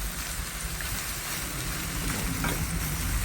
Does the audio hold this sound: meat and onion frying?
yes